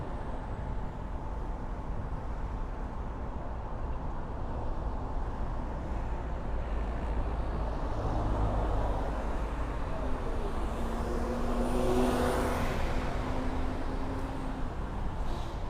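Bangkok road traffic flows past in a steady broad wash of tyre and engine noise, with a nearer vehicle swelling by midway through.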